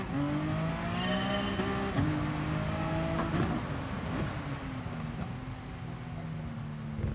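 A race car engine drones steadily in Gran Turismo Sport during a heavy wet daily race at Spa, its revs rising and falling through gear changes, held at a moderate, continuous level.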